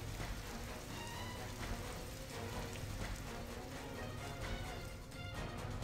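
Steady, dense rain falls in the Lanja, Ratnagiri and Rajapur area, making a continuous hiss of drops on surfaces that stays even and fairly close for the whole stretch, with no voices.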